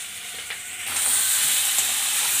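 Potatoes fry in a pan with a steady sizzling hiss that swells louder about a second in and then holds, with a couple of light scraping clicks.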